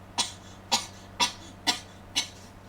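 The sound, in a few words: cough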